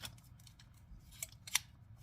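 Kitchen scissors from a Temu knife set being handled, a couple of faint metallic snips and clicks over a low background hum.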